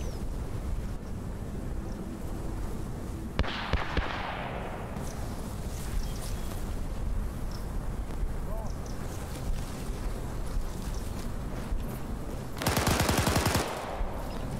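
Weapon fire in the military shooter game Arma 3, a steady rumble of shots with a long loud burst near the end, mixed with wind-like noise.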